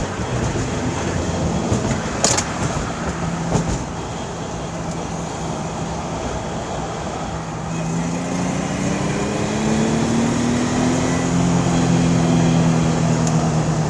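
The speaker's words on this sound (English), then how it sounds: "We'll downshift, we'll go right here, and you guys will be able to see it go over the bumps." A 1976 Datsun 280Z engine hums at a moderate distance as the car downshifts and rolls over road bumps, the tone rising steadily toward the end, with a few sharp knocks early on and no talk.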